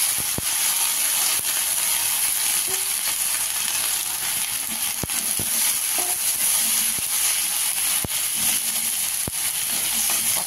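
Sojne (drumstick) leaves frying in a pan with ginger and ground cumin-coriander, a steady close sizzle with occasional sharp stirring clicks and scrapes throughout, no talk.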